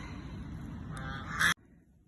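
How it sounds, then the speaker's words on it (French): Two farm geese kept as guardians give a loud, close honking call that ends abruptly, with no talk over it. "Et au fond mes gardiennes, mes 2 oies."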